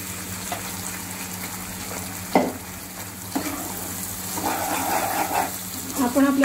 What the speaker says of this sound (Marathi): आपण आपल्याला चांगलं तेल सुटेपर्यंत परतत राहायचं आहे